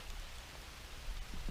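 Rain falling outdoors by an old bridge in rural Atchison County, Missouri, a faint steady patter and hiss with a few soft drop taps near the end.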